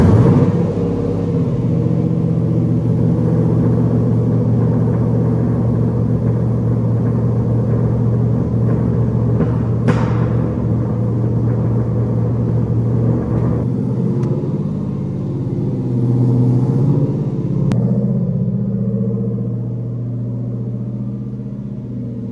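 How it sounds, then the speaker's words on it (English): A Jeep SRT8 fitted with a stage 2 HHP racing cam idles loudly and close, a heavy lumpy rumble with an uneven cam chop and a few light throttle blips, no voices. "it's finally time to hear the car"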